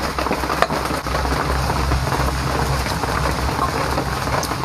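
Steady rain falls in a continuous, even hiss that carries on without a break and holds a fairly loud level throughout.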